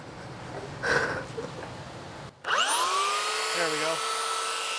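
A belt sander switches on and runs steadily, a loud sustained whine with a rubbing change as a belt-cleaning eraser block is pressed against the moving belt; a short spoken remark comes before it starts.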